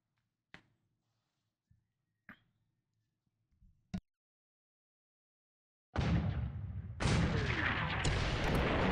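A few sharp, isolated cracks of distant naval gunfire, then a sudden loud sustained roar of an 8-inch shell strike and blast rumbling on in a War in the Pacific naval battle game.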